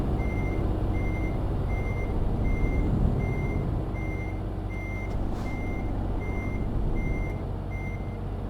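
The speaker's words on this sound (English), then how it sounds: "Let's actually back up while nobody's coming." Truck backing up in Euro Truck Simulator 2, with regular evenly spaced reversing beeps over a steady low engine rumble and a brief hiss partway through, no talking.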